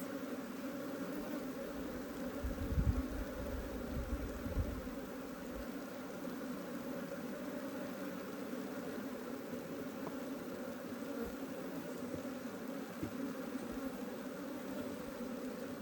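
An Africanized honeybee colony buzzes in its hive, a faint, steady low hum that holds throughout, with a brief soft thump early on.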